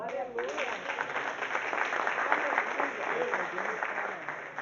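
Sustained clapping from a church congregation, with a preacher's voice briefly audible at the start over the steady applause.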